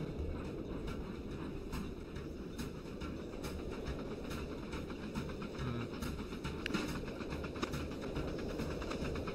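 Trains run in a video game, giving a continuous rolling rumble with repeated clickety-clack rail beats at a steady rhythm throughout, with no talk.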